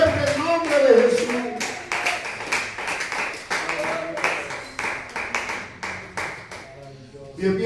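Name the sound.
congregation clapping in church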